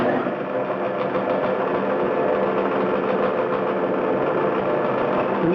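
A metal lathe shaping a muzzle brake runs in high gear with a center in place, giving a steady, fairly loud mechanical hum and whir that holds unchanged throughout.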